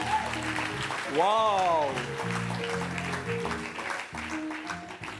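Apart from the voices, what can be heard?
congregation applauding and cheering in church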